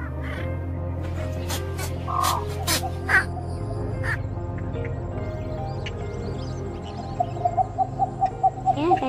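Recorded bittern and pond heron calls played for trapping birds give harsh, scattered croaks over a steady low hum, ending in a quick run of repeated short notes.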